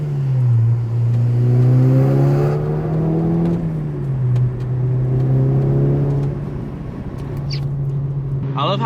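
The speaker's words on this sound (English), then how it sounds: "I love how smooth my car sounds" A smooth, steady Volkswagen Golf R Mk6 engine drones at low pitch while driving, with faint road and wind noise; the hum rises slightly then settles.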